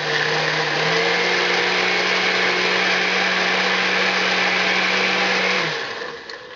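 A blender roars loudly and steadily for several seconds, grinding through ice, then winds down and cuts off near the end.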